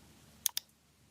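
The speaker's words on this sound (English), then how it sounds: "We create the first column by clicking the previously created nodes one by one." Two quick, crisp computer mouse clicks sound close together in an otherwise quiet room, made while selecting nodes one by one in RFEM 6 structural modeling software.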